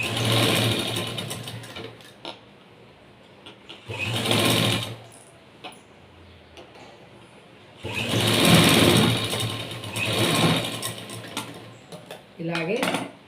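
A sewing machine stitches a straight-cut blouse in two separate bursts of rapid needle chatter, each a few seconds long, separated by quieter handling pauses and a brief clatter at the end.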